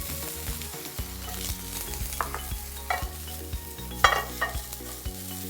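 Finely sliced onions and chopped garlic fry in oil, giving a steady sizzle broken by spoon stirring and scraping against the pan, with no speech and background music playing.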